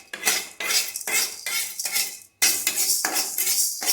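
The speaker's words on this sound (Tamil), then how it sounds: "நம்ம கொஞ்சோண்டு உளுத்தம் பருப்பு போட்டு வறுத்துக்கலாம்." A spoon scrapes and knocks against a pan as urad dal dry-roasts, about eight rhythmic stirring strokes close up with a brief pause midway and no talking.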